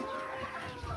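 Farm chickens kept alongside pigs cluck softly in a brief, steady stretch of outdoor barnyard ambience.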